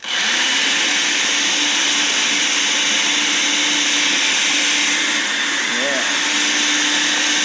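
A small blender whirs loudly and steadily as it mixes mango cheesecake ingredients, a constant high motor drone with a brief pitch wobble near the end and a short spoken word over it.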